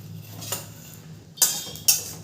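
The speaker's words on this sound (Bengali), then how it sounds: "কড়াইতে একটু নেড়ে নেব, এইভাবে একটু নেড়ে হালকা করে ভেজে নিতে হবে।" A spatula scrapes and clinks against a wok while stirring five-spice and dry chillies, with a few sharp metallic strokes over a faint low background.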